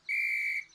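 A single shrill whistle blast from a cartoon, steady and high-pitched, held for about half a second before cutting off.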